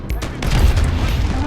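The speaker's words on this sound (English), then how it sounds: "Oh, look at that explosion." An explosion booms in Call of Duty Modern Warfare Ground War gameplay, a loud low burst with crackling gunfire, followed by a rumbling tail over chaotic battle noise.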